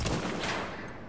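Gunfire in The Division's Dark Zone, a dense burst of shots with a fresh loud blast right at the end, no talk over it.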